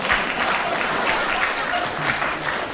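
Continuous applause from a radio comedy panel show's studio audience, many hands clapping at once in a steady, even roar that holds at the same level throughout, with a few faint voices mixed in.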